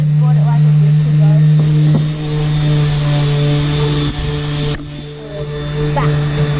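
An electric sander grinds steadily on a boat part, a loud, constant motorized drone with a strong low hum that holds throughout, with brief dips and scraping shifts as it moves over the surface.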